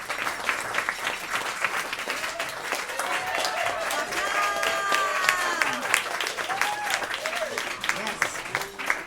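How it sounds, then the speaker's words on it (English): Sustained applause from an audience at a spring celebration of music performances, dense and steady clapping with scattered cheers and voices rising through it, fairly close and full for about nine seconds. "Let's give her one more round of applause,"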